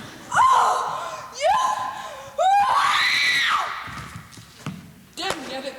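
A woman's shrill screams and gasps in a murder mystery drama, several loud rising and falling cries in close succession with a thud near the end.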